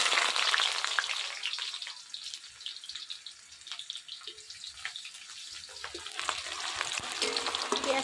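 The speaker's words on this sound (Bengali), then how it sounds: "পেঁয়াজটা বেরেস্তার মতো করে ভাজবো।" Onions frying in oil for Bengali khichuri produce a close, loud hiss that dips briefly and then builds again, with scattered spatters and light stirring scrapes and no voice over it.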